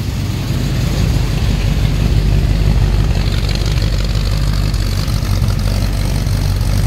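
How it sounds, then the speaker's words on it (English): A 1958 Chevrolet Impala's engine rumbles steadily from behind the car, a loud, deep, continuous idle with no talking. "Nice little rumble to it."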